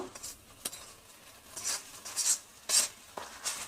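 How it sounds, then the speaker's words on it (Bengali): Jackfruit, shrimp and potato with chili powder being stirred in a pan give a series of short scraping, clinking strokes with quiet gaps between them, fairly close and soft. "লঙ্কা গুঁড়ো তো ভিজিয়ে রেখেছি দিয়ে এবারে নাড়তে থাকবো"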